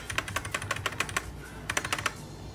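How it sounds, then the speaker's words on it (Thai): Rapid typing on the keys of a NUBWO Majestic rubber-dome keyboard, close and crisp clicks in quick bursts, a short pause, then another flurry of keystrokes, with no voices. "คือเสียงเนี่ย มันเหมือนสวิตช์ยางผสมกับแมคานิคอลอ่ะนะ"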